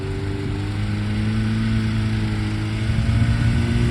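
A Lada Zhiguli car engine hums steadily with a low mid-pitched drone, growing slightly louder toward the end as it passes nearby.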